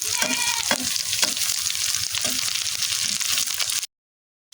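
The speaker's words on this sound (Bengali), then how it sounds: "তেল গরম হয়ে গেছে, এবার মাছ দিয়ে দিলাম।" Pieces of catla fish frying in hot mustard oil in a large wok, giving a loud, continuous sizzle with bursts of crackle and spatter that stops abruptly near the end.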